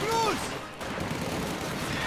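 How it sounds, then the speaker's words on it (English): MG42 machine gun fire in the strategy game Company of Heroes 2 rattles along in continuous bursts amid battle noise, heard under a steady stream of fast commentary. "Another MG42, looks like a heavier tier 1 from Noluckystrike"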